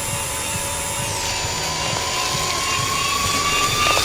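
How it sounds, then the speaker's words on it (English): High-pitched drill whirring steadily with a rising mechanical whine and clicking pulses beneath, loud and continuous throughout, from the video game Stories Untold. "What, with a fucking drill?"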